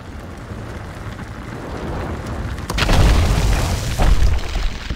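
Booming rocket explosions from goblin rocket troops in the World of Warcraft Horde war campaign, a rumbling barrage that swells midway with a couple of heavy blasts over a dense, noisy battle bed.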